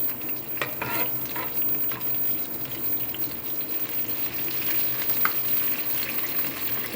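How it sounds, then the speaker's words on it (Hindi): Whole garam masala spices fry in a pan for beef yakhni pulao, giving a continuous soft sizzle with occasional stirring clinks, close and steady with no talking. "साबुत गरम मसाला थोड़ा सा, अच्छी तरह इसको थोड़ा सा भूनने देंगे"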